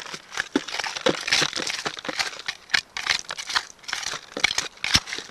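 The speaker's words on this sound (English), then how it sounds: "and you scoop that in your bucket" River bank dirt scooped into a bucket while prospecting for flood gold, a steady run of close, gritty scraping and crunching strokes with no talking.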